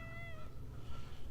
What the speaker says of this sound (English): it's my cat. He loves getting attention and getting snugs and stuff like that.